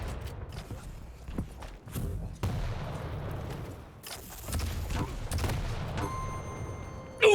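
Rocket launcher fire in a Quake Pro League match: sharp blasts and booming explosions burst out in a rapid, irregular series over a low rumble, with scattered footsteps, ending in a loud close burst.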